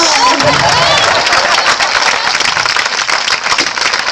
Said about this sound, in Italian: Questo applauso me lo merito!